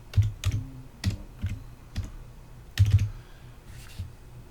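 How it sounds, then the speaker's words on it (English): Keystrokes on a computer keyboard as an IP address is entered, a few quick clustered clicks separated by pauses, close and fairly quiet with no talking. "So I'm going to go ahead and type that in."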